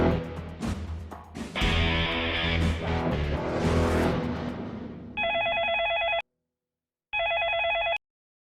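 A telephone in a Pakistani comedy drama scene rings in two loud, electronic trilling bursts separated by a short silence, following a stretch of background music.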